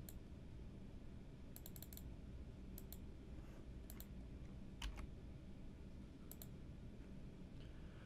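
A new password typed on a computer keyboard, quick clusters of light key clicks in short bursts over a steady background hiss.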